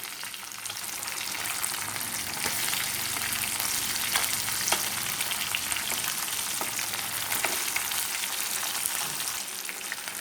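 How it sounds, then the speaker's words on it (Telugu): Fish pieces fry in a pan with a dense, even crackling sizzle that runs throughout, while a spoon turns them one by one, adding light taps and scrapes; nobody speaks. "ఒకవైపు బాగా వేగిన తర్వాత మాత్రమే ఇలా స్పూన్తో ఒక్కొక్కటి తిప్పుకోండి"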